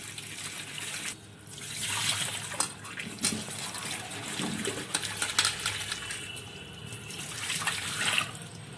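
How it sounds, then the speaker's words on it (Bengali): Tap water runs continuously into a sink while okra is rinsed by hand, with splashing and irregular clatter over the steady flow, close by and without voices. "ঢেঁড়সগুলোকে পরিষ্কার করে ধুয়ে নেব"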